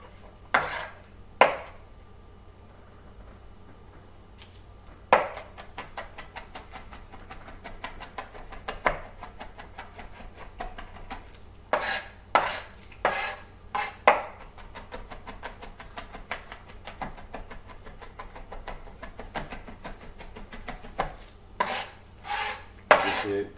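Garlic cloves diced with a knife on a cutting board, sharp clicking chops in short irregular bursts separated by quieter pauses and light scraping, close and clear.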